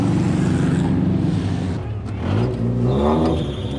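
Open-top 4x4 vehicle pulling away in Bali, its engine rumbling loud and close with a rising rev and wind noise, a brief pause midway before it picks up again.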